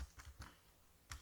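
A few faint, sparse keystrokes on a computer keyboard while entering code in Microsoft Access, with four quick taps separated by quiet gaps.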